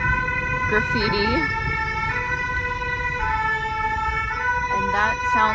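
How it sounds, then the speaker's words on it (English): A European-style two-tone ambulance siren sounds at a port in French Polynesia, holding steady and fairly loud from mid-distance, with brief traffic noises and a voice passing through. "that sounds like a European ambulance"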